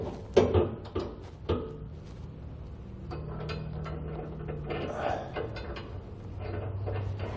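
A hand ratchet turns the bottom bolts on a B&W Companion 5th wheel underbed hitch bracket. Irregular clicks and metallic clanks come close up, followed by a softer, steadier mechanical ratcheting.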